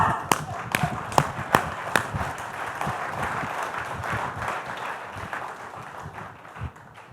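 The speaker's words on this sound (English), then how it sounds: "let's clap." An audience at an HR congress claps together, a scattered burst of sharp hand claps at first that settles into steady, fairly faint applause from the room, with some speech mixed in.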